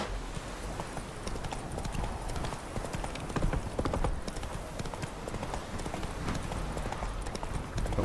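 Horse hooves trotting in The Witcher 3: Wild Hunt, a steady clip-clop rhythm running continuously beneath faint game ambience.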